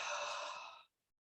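A single long, breathy exhale during an intermediate Pilates abdominal workout, fairly close and steady before fading out into silence, with no talking.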